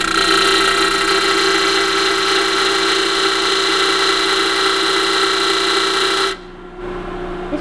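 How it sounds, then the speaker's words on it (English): A homemade electric impact driver built from a drill spins with a steady loud whine and motor drone for about six seconds, then cuts off abruptly, leaving a quieter hum. "All I have here are drills, so I just made an electric impact"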